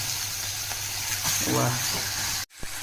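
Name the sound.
pork added to pan of tomatoes, sizzling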